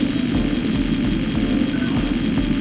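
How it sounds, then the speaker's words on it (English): A bomber aircraft drones overhead in the mech combat game Armored Core 2: Another Age, a loud, steady low engine roar that holds without a break. "We've confirmed the presence of a bomber of unknown origin in the airspace above."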